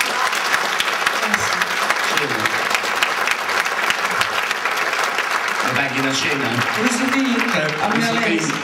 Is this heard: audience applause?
yes